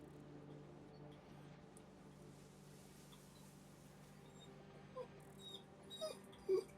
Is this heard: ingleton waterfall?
no